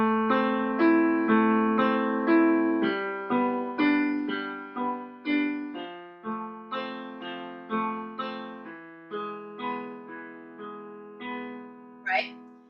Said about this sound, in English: If I were to break it up or arpeggiate it,